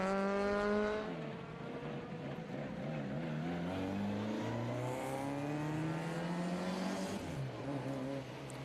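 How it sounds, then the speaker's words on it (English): A Ford Escort rally car at a historic sprint event pulls away from the start line, its engine note rising through the gears in a loud, sustained rev that climbs and shifts before settling. "Has a distinctly different sound from the other Ford Escorts going around."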